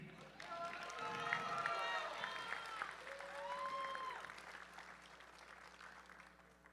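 An audience at a USA Powerlifting meet applauds the medal winners of a women's weight class, clapping swelling and fading over several seconds at moderate distance, with voices audible in the hall.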